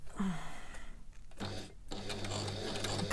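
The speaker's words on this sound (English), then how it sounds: "Can't look at the camera while I'm sewing." A sewing machine stitches a face mask in short bursts with brief pauses between them, close by and moderately quiet, with faint handling noise.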